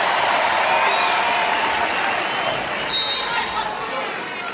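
Loud, dense crowd roar at an NCAA women's volleyball championship match between Nebraska and Penn State, with cheering and applause swelling steadily throughout and a brief louder burst near the end.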